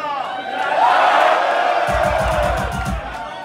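A concert crowd at the Underworld in Camden, London roars and whoops loudly, swelling then easing, before a burst of rhythmic stomping or drum hits near the end.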